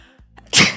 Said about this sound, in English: Sorry, I might sneeze.